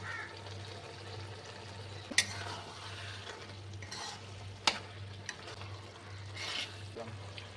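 Prawns cooking in a pan with banana flower, a low steady frying sizzle with a few sharp stirring clinks and scrapes over a constant background hum.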